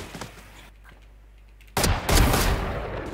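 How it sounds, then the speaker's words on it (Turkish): Loud bursts of gunfire in the tactical shooter Valorant, played on the map Kayo, erupt suddenly after a quiet stretch and continue as dense, rapid shots with crackling impacts, near and forceful. "Merdivenden adam beni vuruyor."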